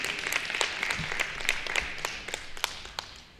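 Audience clapping in a room at a pancake breakfast, a spread of hand claps sustained for a few seconds and fading toward the end, no voices.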